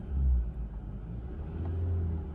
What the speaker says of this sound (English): So since the car is in park, I'll give it a quick rev so you can see.